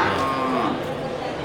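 At a livestock market, a Simmental cow gives a loud, close moo lasting about a second, with a faint murmur of crowd noise behind it.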